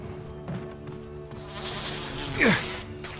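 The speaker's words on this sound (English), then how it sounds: "Oh my god, there's bees in here too." Bees in the video game Resident Evil HD Remaster drone and whine close by, with a louder buzzing pass swelling near the end over steady game ambience and no talking.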